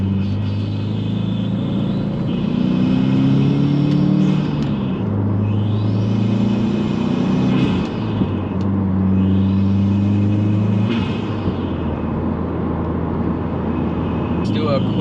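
A 2018 Subaru WRX with a GrimmSpeed turbo inlet and Nameless Performance bypass valve makes a third-gear pull from around 3,000 rpm: a loud engine rumble that rises and falls in pitch, with a turbo whistle sweeping above it and a voice talking over it.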